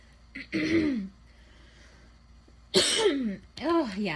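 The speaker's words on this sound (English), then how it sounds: "I'm so sorry I coughed so much in your ear." A few harsh coughing bursts close to the mic, separated by a quiet pause, with a throat-clearing quality.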